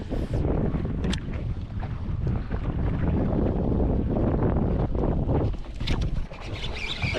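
A fishing boat motors across Lake Tenkiller with a steady loud engine and hull rumble heavily masked by wind buffeting on the microphone, continuous throughout with no talking.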